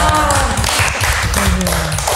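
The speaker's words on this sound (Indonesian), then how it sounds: "Luar biasa ya, tepuk tangan dulu dong." Clapping at an Indonesian Christmas church broadcast during the pandemic, a short burst of close hand claps mixed with low tones and background voices, loud and steady for about two seconds.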